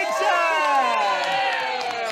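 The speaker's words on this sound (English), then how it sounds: "a round of applause, Alesha" A TV studio audience cheers and whoops loudly for Alesha Dixon with applause underneath, a steady wall of excited voices lasting the whole moment.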